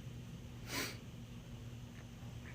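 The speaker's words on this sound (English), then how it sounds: "I really wish I knew where these sniffles are coming from." A single short sniffle through a stuffy nose, fairly close and clear, rises out of a quiet room with a low steady hum. Another faint breath follows near the end.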